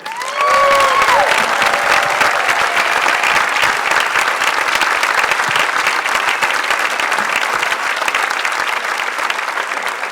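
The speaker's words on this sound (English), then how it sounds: "Let's have a huge round of applause for these incredible players." Theatre audience applauding the players after a vaudeville act, a loud, sustained, dense round of clapping that follows a short voice at the start and carries on with light cheering.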